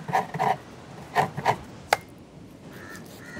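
Coconut being grated by hand in a home kitchen produces short scraping rasps, two quick pairs followed by a single sharper stroke and then quieter faint rubbing, heard close with no speech.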